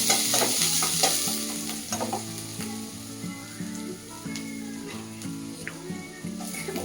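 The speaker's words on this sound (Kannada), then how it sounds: "ಅದೇ ಎಣ್ಣೆಗೆ ಶುಂಠಿ ಬೆಳ್ಳುಳ್ಳಿ ಜಜ್ಜಿರೋದು," Crushed ginger and garlic frying in hot oil for a paneer gravy, a steady close sizzle with clinks of a stirring spoon against the pan, heard alone without talk.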